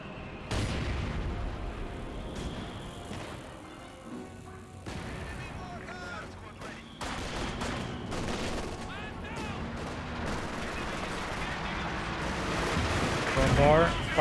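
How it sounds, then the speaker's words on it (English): A Brumbar assault gun fires during a Company of Heroes 2 battle, with heavy booms and crashing impacts amid scattered gunfire and explosions, dense and loud throughout the busy game soundscape. "Brumbar fires around."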